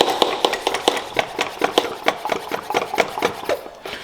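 Hand pump on a brake power bleeder being stroked to build pressure for a B5 Audi S4, producing a steady series of about a dozen rhythmic rasping strokes, close and fairly loud.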